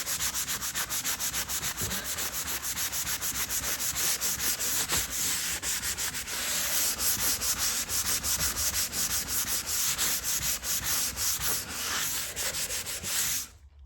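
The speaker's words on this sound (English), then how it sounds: "this is like a 60 grit or something, and I'm buffing this area to make this smooth." Continuous rough scrubbing of coarse 60 grit sandpaper buffing a wooden surface in a craft room, steady and close, with rapid back-and-forth strokes and no voices.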